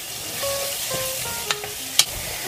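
A chili con carne meat mixture sizzles and bubbles steadily in a pot, with a continuous frying hiss and a few light utensil clinks close by, and no voices.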